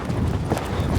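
Hooves of a horse cantering in a riding arena, a steady rhythmic clip-clop of footfalls close by with a low thudding undertone, no voices over it.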